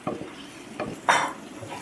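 Spiced mushroom masala with fried mushrooms, onion and capsicum is stirred in a pan, a utensil scraping and clinking against the metal in short bursts, with one louder scrape near the end and a faint sizzle underneath.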